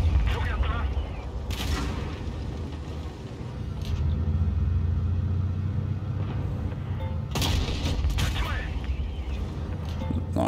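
Tank cannon fire and rumbling engine noise in the World of Tanks Blitz game, with a few sharp booms rising over a steady low growl while someone talks.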